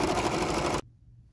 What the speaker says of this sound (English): Let's get going on stitching down this red material